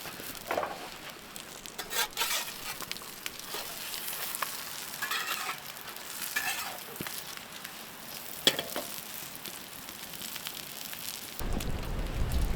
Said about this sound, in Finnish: meillä on lättytaikina tässä näin ja ruvetaan sitä paistamaan